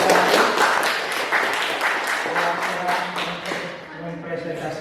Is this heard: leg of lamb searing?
no